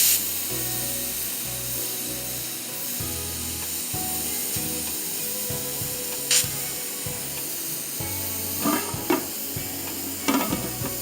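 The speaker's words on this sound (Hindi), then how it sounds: "मैं इसको अब भूनूंगी, भून के वो मसाला डाल के अच्छी तरह भून के दम पे छोड़ देंगे 5-10 मिनट।" Masala being sautéed in a pot for a pulao or karahi in a kitchen, soft sizzling with stirring and occasional spoon scrapes and clinks against the pot, close and steady with no talk.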